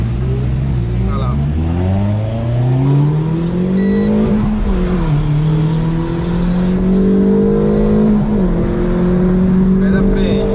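A Renault Sandero RS revs hard through several rising pulls. The engine note climbs, dips with each shift and climbs again, fairly close and loud, while people talk excitedly over it.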